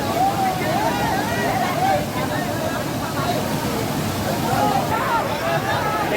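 River water from the Saryu gushes steadily from a motor-driven pump at a bathing spot, a constant loud rushing splash with a crowd's chatter and shouts over it.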